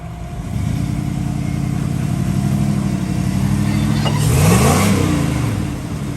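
Off-road rig with lockers, coilovers and an LS engine crawling uphill on a trail, its engine droning steadily then revving harder near the end before easing off, fairly close with no talk.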